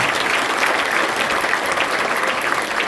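An audience at a parents' gathering claps loudly and continuously, a dense, even wash of applause that fills the whole stretch with no pauses.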